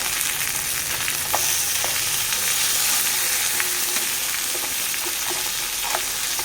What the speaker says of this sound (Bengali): আর এদিকে দেখা মাছটা ভাজাও বসিয়ে দিয়েছি